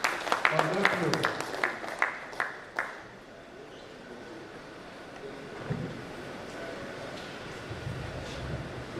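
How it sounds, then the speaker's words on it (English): Scattered claps from a conference audience at a Nigerian university registrars' retreat, a few sharp distinct hand claps at the start that quickly fade into low hall noise and murmuring. "A round of applause for the Department of Education."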